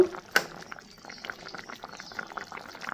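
A pot of jackfruit curry broth bubbling on the stove, a steady low simmering burble with a sharp clink near the start, moderately quiet and heard alone.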